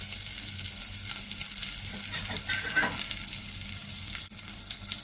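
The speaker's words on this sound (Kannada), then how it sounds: "ಸ್ವಲ್ಪ ಚೆನ್ನಾಗಿ ಫ್ರೈ ಮಾಡಬೇಕು. ಸ್ವಲ್ಪ ಕೆಂಪಾಗುವವರೆಗೆ ಫ್ರೈ ಮಾಡಿಕೊಳ್ಳುವ." Chopped onion frying in oil in a pan over a lowered flame, giving a steady close sizzle with faint scraping stirs and a sharp knock near the end; no voices.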